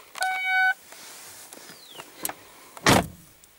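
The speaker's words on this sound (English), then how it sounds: "All four windows are fully automatic." Interior of a 2006 Ford Focus Zetec with automatic power windows: a short electronic beep tone, a faint whir and small clicks, then one louder thump near the end, all close and without talk.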